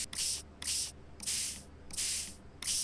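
A spray nozzle cleaning a dinosaur fossil in a paleontology simulation game, five close, crisp hissing bursts in a regular rhythm, each about half a second long with short gaps between.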